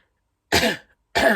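Two sharp coughs, close and fairly loud, separated by a brief silence.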